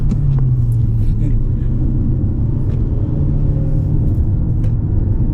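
A 2019 Toyota Camry accelerates on the road, its engine holding a loud, steady rumble from inside the cabin as the tone climbs and shifts, while a voice speaks over it.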